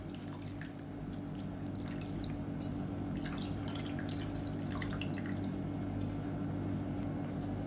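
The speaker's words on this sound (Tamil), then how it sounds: "இந்த ஸ்டேஜில் புளி தண்ணி தேவையான அளவுக்கு சேர்த்துக்கோங்க" Tamarind water poured into a simmering vegetarian fish curry, giving scattered close drips and splashes over a steady low hum, fairly quiet and continuous.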